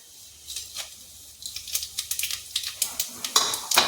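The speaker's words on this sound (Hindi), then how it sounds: "ये देखिए तेल गरम होगा, इसमें डाल देंगे सब मसाले जो हमने खड़े रखे थे वो डाल देंगे" Whole spices drop into hot oil in a pot for chicken stew, crackling and sizzling lightly while a utensil clicks and scrapes against the metal in quick, uneven taps that grow busier toward the end.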